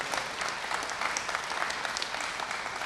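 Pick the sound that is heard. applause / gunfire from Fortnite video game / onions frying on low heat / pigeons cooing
applause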